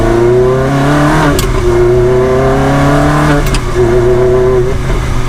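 A loud Ferrari 360 Spider engine with a gated manual gearbox revs hard and steadily, pitch climbing then dropping as gears shift twice, with a raw, roaring exhaust tone up close.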